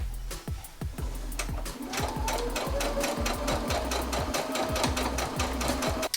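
A sewing machine stitches steadily around the edge of a piece of fabric, its needle hammering in a fast, even rhythm that pauses briefly near the start and then runs on loud and close, with no talk.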